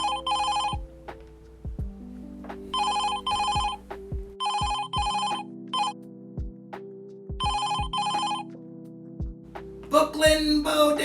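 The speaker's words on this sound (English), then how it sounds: "Oh, that's the phone." A telephone rings in a small shop, with repeated bursts of a bright electronic ring separated by short pauses. The sound is close and loud and ends in a brief clatter as the receiver is picked up.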